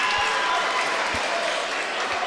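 A high school basketball crowd in a gym applauds steadily after a made free throw, a dense sustained clatter of hands with faint voices mixed in.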